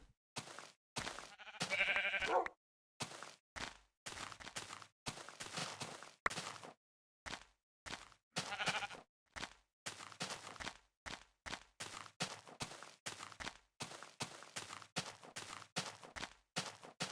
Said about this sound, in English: Sheeps for days.